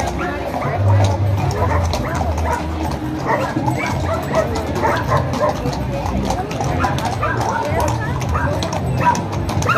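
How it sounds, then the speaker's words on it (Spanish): Dogs bark and yip amid a crowded night horse cavalcade in the Altos de Jalisco, with hooves clopping, people talking and general festive noise filling the background. "Por ahí andan unos perrillos medio latosillos"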